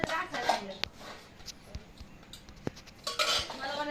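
Steel dishes and utensils being scrubbed and washed, with metallic clinks and clattering knocks of pots and cutlery, close by, while people talk over it.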